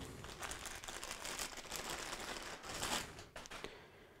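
Crinkly plastic rustling, close and fairly steady for a few seconds, with a brief pause near the end and no voices.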